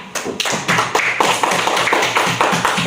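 Classmates in a school classroom clap for a student who answered correctly, a short burst of brisk, uneven hand claps from a small group, fairly loud and close, with no talk over it.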